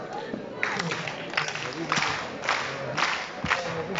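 An audience at a boxing gala claps hands together in a steady rhythm, the claps sharp and evenly spaced beneath a singing voice and crowd murmur in a large hall.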